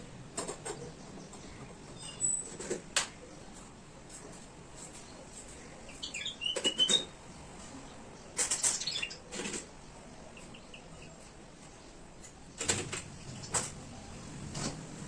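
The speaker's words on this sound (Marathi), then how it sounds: "गॅलरीच्या समोर नारळांची झाडं आहेत त्याच्यावर सकाळच्या खूप चिमण्या येतात त्यांचा आवाज ऐकायला खूप छान वाटतं" Sparrows chirp from coconut trees in front of a gallery on a morning, with faint, scattered twitters and short bursts of rustling and patter spread across the clip, fairly distant and quiet. No one speaks.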